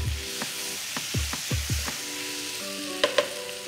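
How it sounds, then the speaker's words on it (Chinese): Pork belly and potatoes being stir-fried in a wok with oyster sauce and soy sauce, giving a steady sizzle broken by several sharp scraping strokes of the spatula and a couple of louder clinks near the end. "加入蚝油、酱油，继续煸炒。"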